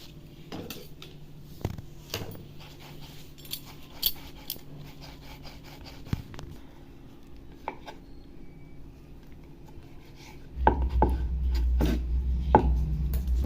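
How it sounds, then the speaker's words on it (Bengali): A knife cuts a soft semolina luchi dough into small portions. Sharp, scattered taps land on the board at irregular intervals, and a louder, steady clatter and rumble builds toward the end. "তো এরপর মা এটাকে লেচি কেটে নেবে"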